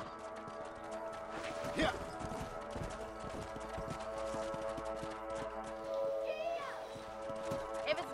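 Horse hooves clip-clop steadily in the video game Red Dead Redemption, a riding rhythm under game music with occasional brief speech and a horse snort.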